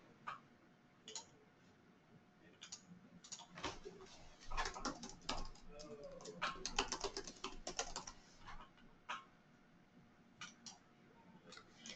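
Someone types an email address on a computer keyboard, producing irregular bursts of close, crisp key clicks with short pauses between flurries, moderately quiet with no talking.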